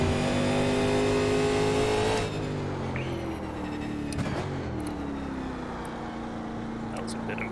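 Race car engine in the iRacing sim, a 1987 NASCAR Legends car on the Daytona road course, drones loud and steady, then drops pitch around a downshift and keeps pulling in a lower gear.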